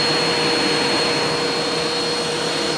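A vacuum cleaner runs in a home with its hose attached, a loud, steady whooshing drone with a faint high whine that holds unbroken throughout, with no voices.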